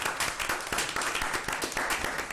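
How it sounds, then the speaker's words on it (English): An audience at a school board meeting applauds with steady, dense clapping that fills the room continuously at moderate volume. "Let's give that team a round of applause as well."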